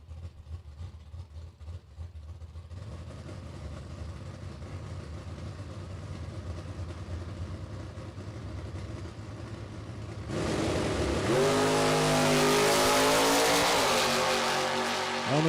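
An Oldsmobile Achieva drag race car idles steadily, then launches into a loud, hard acceleration with engine pitch rising through several gear shifts near the end.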